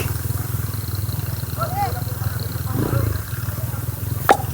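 Motorcycles ridden through deep flood water chug steadily, a low pulsing engine note throughout, with a voice speaking nearby.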